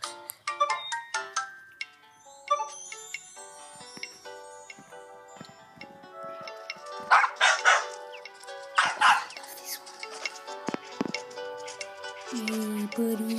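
Small dog barks and yaps from a toy poodle in the Nintendogs + Cats game, short game-style barks mixed with jingly chimes, ticking menu sounds and bright electronic tones.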